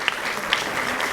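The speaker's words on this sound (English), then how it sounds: "Can we give all our parents that are here a round of applause" Audience at a school district parents' council meeting clapping for the parents present, a short, moderately loud burst of scattered hand claps lasting about a second.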